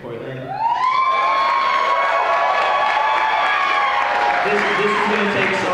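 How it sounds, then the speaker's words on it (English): At a Don't Shoot Portland rally, a crowd applauds and cheers loudly and continuously for several seconds, with rising shouts and whoops layered over the clapping. "This is going to take so long if we clap every sentence"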